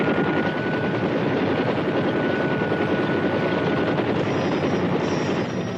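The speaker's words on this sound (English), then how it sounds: "These choppers pack an impressive resource of firepower. The gunships strike quickly, with uncanny accuracy and formidable power." Helicopter gunships in Vietnam War footage, a loud continuous rotor chop and engine drone holding steady throughout, with no voices.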